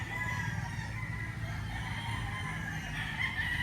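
A gamefowl stag, a young fighting rooster in a breeding setup, clucks and crows close by with a steady farmyard din around it, no voices over it.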